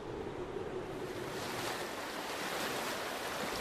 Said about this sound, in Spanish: durante unos días solo se oye el río